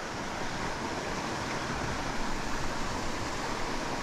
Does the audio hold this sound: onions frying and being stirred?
no